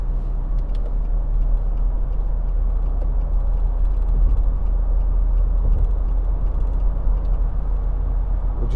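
A 2013 Nissan Navara 2.5 dCi Tekna double-cab pickup on heavy-duty pattern tyres cruises at about 79, with a steady low engine and road drone, tyre roar and occasional faint rattles inside the cab.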